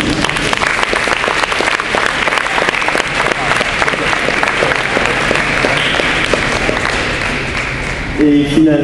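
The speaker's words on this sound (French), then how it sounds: "Alors on applaudit Lincoln Yang." Loud, sustained applause from an audience, dense clapping throughout that fades slightly near the end.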